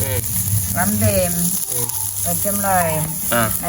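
Garlic hisses and sizzles in a hot frying pan as it goes in, a steady crackling fry running under women's chatter in a home kitchen.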